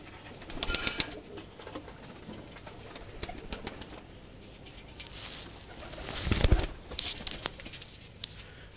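An Imamdin pigeon coos in low repeated calls close by, mixed with fluttering, scratchy pattering and a louder burst of wing flapping partway through.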